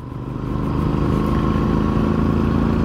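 Royal Enfield motorcycle engine running steadily, a low rumbling thrum that swells in the first half second and then holds constant and fairly loud, with no talking.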